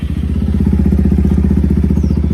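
A Bajaj Pulsar N250 motorcycle fitted with an SC Project full-system exhaust runs loud and close, its deep engine throbbing in a fast, even stream of low pulses throughout, with no speech.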